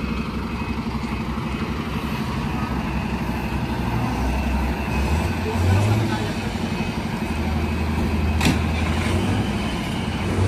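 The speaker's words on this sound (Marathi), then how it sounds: "बेस्ट असा साऊंड आहे गाडीचा" An MSRTC BS6 Lalpari bus idling at a depot platform, a deep continuous diesel rumble with a slight rise midway, while people talk over it.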